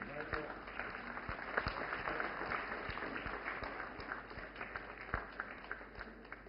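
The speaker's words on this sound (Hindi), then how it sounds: "जोरदार तालियों से स्वागत करें हमारी नमो ड्रोन दीदी का" Crowd applause at a large government women's empowerment event welcoming a drone recipient, a continuous distant patter of many hands, with a public-address voice speaking over it.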